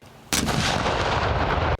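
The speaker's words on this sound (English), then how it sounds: "From military taps to cannon salutes" A single loud cannon blast booms out as part of a salute at a memorial ceremony in a national cemetery, a sharp onset followed by a sustained rumbling roar that cuts off abruptly.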